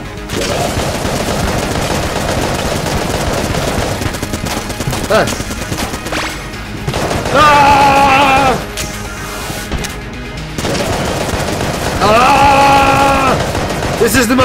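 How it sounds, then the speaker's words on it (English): Machine guns trade rapid bursts in the twin-stick shooter Enter the Gungeon, loud crackling fire broken by short pauses and sharper electronic zaps, with game music and effects layered throughout. "Machine gun versus machine gun!"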